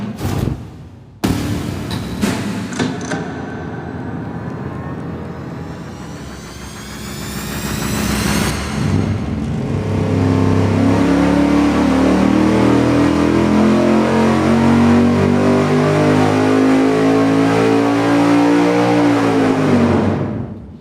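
A V8 engine with a 4-7 firing order swap runs on a dyno. After a few sharp bangs it starts and idles, then pulls hard in a long, loud, climbing sweep to high revs before cutting off.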